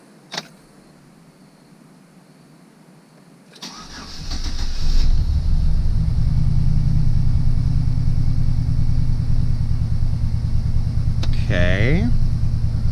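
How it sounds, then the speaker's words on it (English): A Chevrolet Silverado that is running poorly, with its fuel pump relay pulled, cranks briefly and then fires into a loud, steady idle rumble that carries on close by, with a short squeal near the end. "we're gonna try firing it up and see what's going on"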